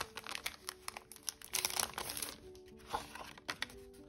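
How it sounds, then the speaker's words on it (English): Thick accordion-fold paper is unfolded close by, making a series of soft, quiet crinkles and rustles as the folds open one after another. "Let's open up this accordion fold paper."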